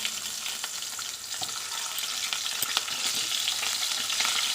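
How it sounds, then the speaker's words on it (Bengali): Potatoes frying in hot oil over tempered whole spices, a loud steady crackling sizzle with a few sharp pops and light stirring, close and without talk. "ফোড়ন দিয়ে সুন্দর গন্ধ বেরিয়েছে, এখন আলুগুলো দিয়ে দিচ্ছি"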